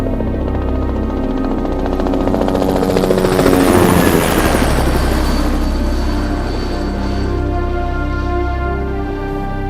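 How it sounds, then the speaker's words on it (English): A crop-spraying helicopter's heavy rotor thump and engine roar, loud and steady, swelling as it hovers close overhead spraying pesticide mist over hilltops, with no voices. "the helicopter hovering above us and spraying the mist"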